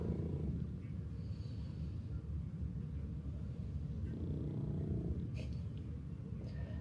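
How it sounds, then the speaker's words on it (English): A low, steady rumbling purr, continuous and close, with a faint scratch or rustle here and there. "she's purring like a pussycat"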